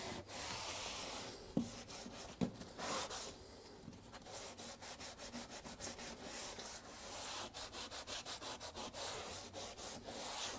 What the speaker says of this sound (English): as soon as we get done sanding this